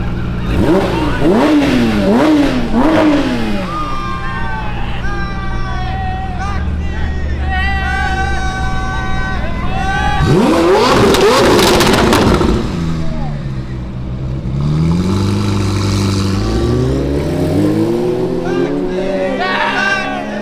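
A car engine revving hard during Monterey Car Week, with loud rising and falling engine pitch sweeps in repeated bursts over crowd noise and excited voices.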